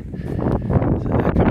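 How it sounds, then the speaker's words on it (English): Steady wind buffets the microphone on a hill along the South Downs Way between South Harting and Cocking, with a low, rumbling roar that swells and gusts throughout, with no clear voices. "A bit windy."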